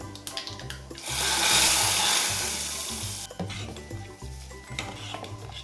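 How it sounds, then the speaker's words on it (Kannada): Bottle gourd sambar poured onto a hot fried tempering in a pan bursts into a loud, hissing sizzle that peaks quickly and then fades into softer bubbling and stirring. "ಇವಾಗ ಫ್ರೈ ಆದಮೇಲೆ ಇವಾಗ ಸಾಂಬಾರು ಸೇರಿಸ್ತಾ ಇದ್ದೀನಿ"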